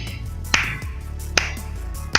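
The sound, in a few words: slow clap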